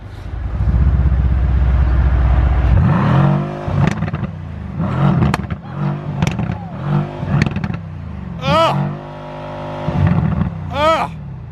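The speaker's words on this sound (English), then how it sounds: "Put it in Sport Plus and give it a rev. Listen to this." A Mercedes-AMG or Alfa Romeo Giulia Quadrifoglio engine set to Sport Plus mode rumbles at idle, then barks through a series of sharp throttle blips and rising revs, loud and close, with people talking over it.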